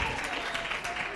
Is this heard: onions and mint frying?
no